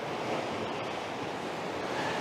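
Continuous roar of ocean waves washing against the rocky coastal point at Murunna Point, Bermagui, New South Wales, steady and full with some wind rumble on the microphone, no speech.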